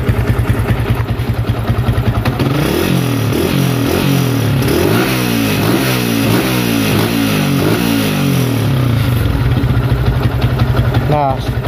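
A motorcycle with a new aftermarket exhaust idles with a crisp, loud beat, then is revved repeatedly in short bursts that rise and fall before settling back to idle, close by and alone.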